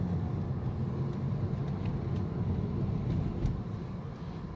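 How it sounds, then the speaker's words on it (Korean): A 2014 BMW 520d F10 on a test drive after reassembly, checked for a crackling noise when steering: a steady low engine and road rumble from inside the cabin, even and continuous with no voices. "이제 조립을 다 하고서 시운전 왔거든요."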